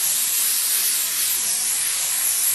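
Steady airy hiss of an airbrush spraying cleaner continuously into a paper towel, close and fairly loud, with no pauses or voices.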